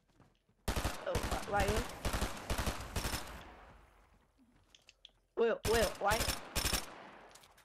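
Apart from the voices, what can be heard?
gunfire in the video game Fortnite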